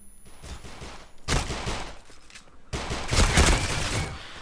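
Rapid automatic gunfire in the Critical Ops mobile shooter comes in two dense bursts of fast, loud, crackling shots with a short gap between them, heard without talk.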